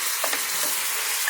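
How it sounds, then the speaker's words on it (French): Liquid cream hits hot, colouring caramel sugar in a pan, giving a loud, steady, close sizzle for a brief moment with no voices. "Quand le sucre commence à changer de couleur, on met un tout petit peu de crème liquide"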